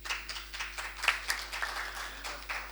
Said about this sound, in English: We're clapping for that